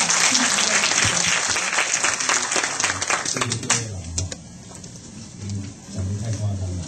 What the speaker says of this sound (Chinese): 请大家给掌声